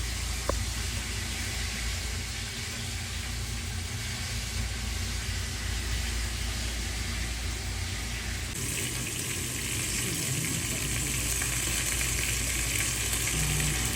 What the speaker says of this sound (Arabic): الدوشة بتاعت التحمير هي اللي عاملة الزيتة كلها